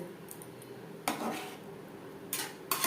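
Egg curry gravy is stirred in a pan, and a metal spoon scrapes and clinks against it in a few short bursts over a quiet background.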